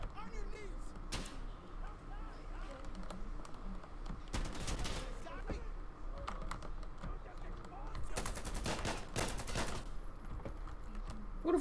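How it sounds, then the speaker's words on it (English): Gunfire in the video game Insurgency Sandstorm comes in sharp bursts of rapid shots at a moderate distance, over a low background hum, with players talking at times. "Who the fuck shooting a pistol?"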